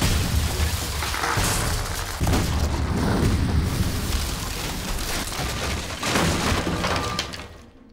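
Cannon shells fired at a man in a period action film, a continuous roar of blasts and shattering debris that stays loud for several seconds before fading out, with no talking.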